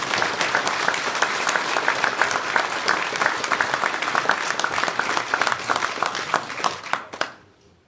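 An audience at a political gathering in Rapla breaks into dense, sustained applause that holds steady at moderate volume and then cuts off abruptly near the end.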